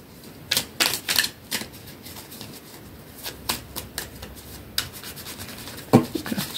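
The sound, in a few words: shuffling oracle cards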